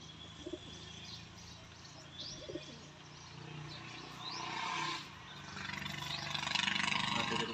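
Pigeons from a breeder's loft of paired birds coo softly and repeatedly, with brief chirps, amid a steady background hum that grows louder toward the end.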